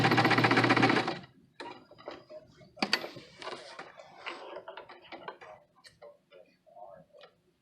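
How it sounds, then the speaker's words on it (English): Sewing machine stitching a quarter-inch seam on a Simplicity 8519 pattern project, a loud steady run of rapid stitching for about a second, then quieter scattered clicks and handling sounds. "And we're sewing at a 1/4 inch."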